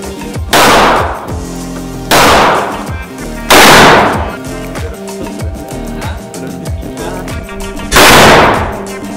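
Cold War guns fired at a shooting range give four loud, close, single shots spaced a second or more apart, each a sharp blast with a brief decaying echo.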